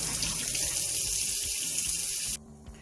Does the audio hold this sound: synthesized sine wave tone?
no